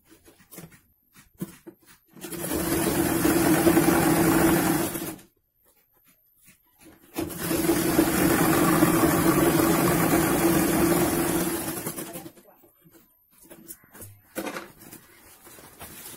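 A sewing machine stitches blouse fabric for a bag in two sustained runs of steady mechanical whirring, each lasting a few seconds and separated by a short pause, followed by a few faint clicks.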